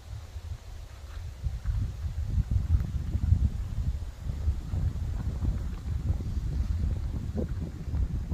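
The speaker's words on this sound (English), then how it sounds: "And now it's just really windy" Strong wind buffets the microphone in a continuous low roar with gusty swells, near and loud, no voices.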